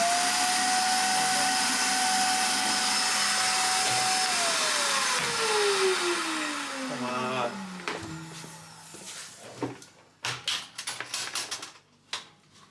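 A Hoover vacuum cleaner runs loud and steady, its motor tone then winding down as it shuts off, followed by scattered clicks and knocks as the machine is handled.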